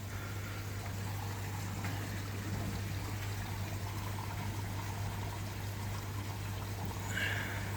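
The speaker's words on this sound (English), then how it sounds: "I've got the water running through quite fast today." Water from a pond overflow rushes steadily and fast, a continuous watery wash with a constant low hum underneath, no voices.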